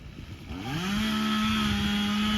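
A chainsaw starts up and revs into a loud, steady high whine that holds near and constant, used outdoors around horses on a ranch.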